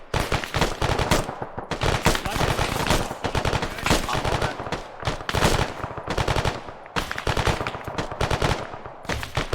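Machine gun fire rattles from a factory roof in the ArmA video game, loud, rapid bursts broken by short gaps, with little else heard.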